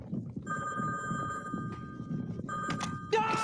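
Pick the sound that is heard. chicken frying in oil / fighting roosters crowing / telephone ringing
telephone ringing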